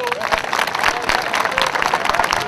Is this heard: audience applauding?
yes